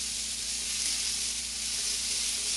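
Butter melting on a square flat skillet before eggs go in, giving a steady, even sizzling hiss throughout, close by and uninterrupted.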